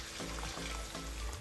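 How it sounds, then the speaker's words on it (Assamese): Hot water is poured into a pork and taro curry, a brief steady pouring and bubbling rush that fills the moment at close range. "এতিয়া মই ইয়াত গৰম পানী দিম"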